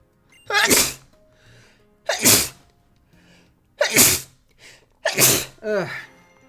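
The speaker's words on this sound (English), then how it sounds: "Back into the sneezing fits." Four loud, close sneezes in a row, evenly spaced about a second and a half apart, with quiet pauses between them.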